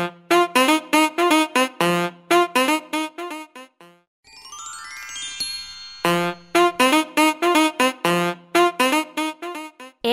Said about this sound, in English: It's a saxophone.